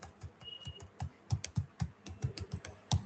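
Fingers typing on a computer keyboard, a quick uneven run of close, crisp key clicks and thumps, about a dozen strokes in a few seconds, with no voices over them.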